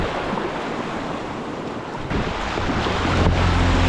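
River waves and rapids rush around a kayak on the Haw River, a steady loud broadband roar of moving water with wind buffeting the microphone, growing slightly louder toward the end.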